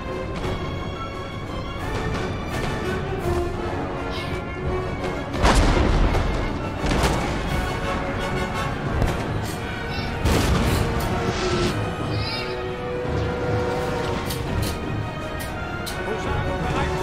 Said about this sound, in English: my artillery is getting attacked, sadly. Okay, open fire, boys.